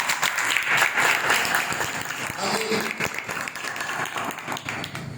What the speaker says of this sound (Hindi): भाई शबाज जो लीड कर रहे थे उनके लिए जोर से ताली